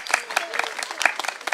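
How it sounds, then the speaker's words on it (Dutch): A small audience at an Efteling theme park fairy-tale show gives brief, sparse applause, individual claps standing out near and fairly faint, over a short burst. "applaus."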